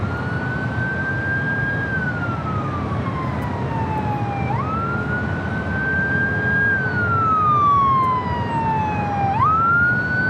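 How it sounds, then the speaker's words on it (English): Emergency vehicle siren near LAX airport in Los Angeles, a loud, close wail rising and falling in slow sweeps over steady traffic rumble, with no talk. "Boy, oh boy, those sirens are loud."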